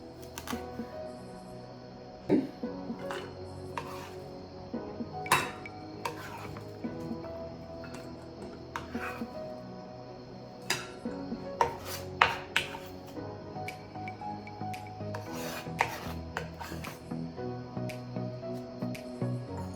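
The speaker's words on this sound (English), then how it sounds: "I'm not going to cut the ginger, I'm just going to crush it" Fresh ginger is crushed in a home kitchen while cooking Jamaican fricassee chicken, giving a series of faint, irregular knocks and taps on a board with small scraping sounds in between.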